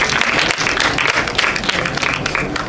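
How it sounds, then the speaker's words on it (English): Loud, sustained applause from an audience, dense rapid clapping with no one speaking over it. "can we give her a round of applause"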